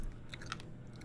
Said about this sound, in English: Am I chewing too loud?